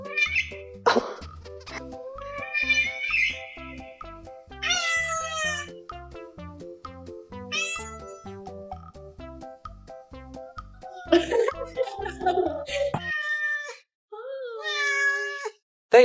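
A pet cat meows back repeatedly in a series of clear, close, drawn-out calls, trading sounds with a person's voice that imitates meowing.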